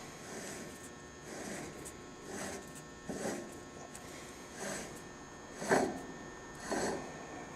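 Unscrewing the cap from a stainless steel M13 cartridge tower by hand, heard as a series of soft rubbing, rasping turns about once per second, close and quiet, with a sharper metallic scrape near the end and no speech.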